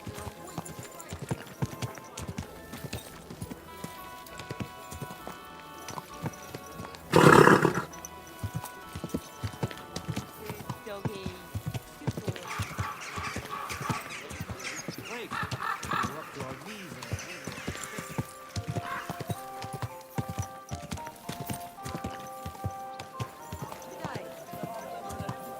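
Horse hooves clip-clopping in Kingdom Come Deliverance 2, a steady rhythmic trot running throughout, with a brief loud whinny early on and someone speaking softly over it.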